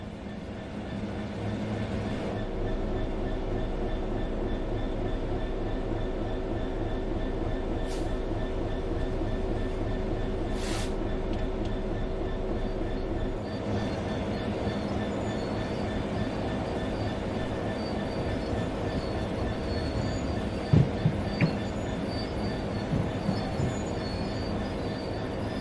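A Class 66 diesel freight locomotive hauling wagons in Train Sim World 3 rumbles steadily under braking, with a continuous engine drone, faint wheel squeal and a few brief clanks near the end.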